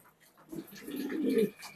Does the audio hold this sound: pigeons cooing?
yes